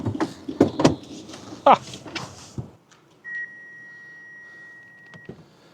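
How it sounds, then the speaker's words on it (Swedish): A Kia EV5 sounds a steady, sustained warning beep for a couple of seconds that the car has not been switched off, following door and interior handling noises with some talk. "Det var att det varnade att jag inte hade stängt av bilen."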